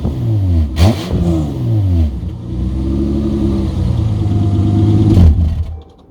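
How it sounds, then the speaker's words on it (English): A Toyota Camry with a faulty exhaust revs up and settles back, a loud, close engine roar that rises twice in quick bursts, then holds at a rough drone before dropping away. "apart from the exhaust, which sounds like this"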